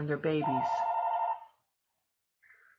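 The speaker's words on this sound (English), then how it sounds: "Sorry about my phone in the background" A telephone rings faintly in the background, one short ring heard just after a voice stops speaking.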